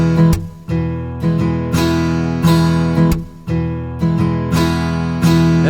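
A virtual acoustic guitar from the Evolution Guitar Engine plays a rhythmic strumming pattern, full bright chords with lighter strums on the highest strings between them, clean and loud with no voices.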